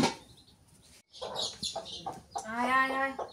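Hens and chicks cluck and cheep close by in a rural yard, short bursts after a brief quiet pause, then a longer rising cluck, with no speech.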